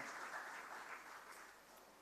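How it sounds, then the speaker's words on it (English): Brief, faint audience applause at a government town hall consultation, a soft wash of clapping that gradually tapers off. "Another round of applause for Zachary Campbell."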